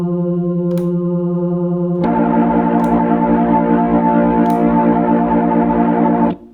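An electric organ holds a sustained chord through a spinning speaker, shifting to a fuller, wavering swirl partway through before cutting off abruptly.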